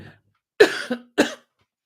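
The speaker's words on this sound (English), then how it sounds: "I keep coughing." Two sharp coughs close by, the first with a short follow-up hack, separated by a brief pause in otherwise quiet surroundings.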